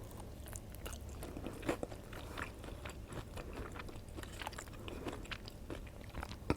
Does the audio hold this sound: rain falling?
no